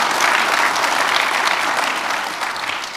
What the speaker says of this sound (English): let's give everybody one more big round of applause for being here and doing that